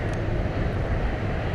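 An Airbus A321 jet airliner at DFW Airport gives a steady, dense engine roar, fairly loud and continuous, with no voices over it.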